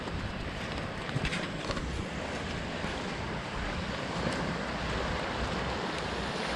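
Raging creek water rushing steadily nearby, a continuous roaring wash mixed with wind buffeting the microphone, no voices heard.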